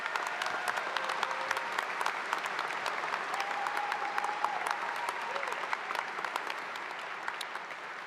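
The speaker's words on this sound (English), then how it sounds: "let's give them another round of applause." Steady applause from a large crowd at a high school graduation continues throughout, dense clapping at an even level with a few faint whoops mixed in.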